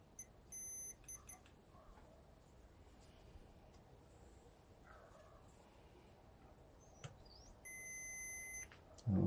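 A small electrical continuity tester checks fuses from an Ibanez Iron Label guitar amplifier, giving short electronic beeps near the start and a longer beep toward the end against a quiet background.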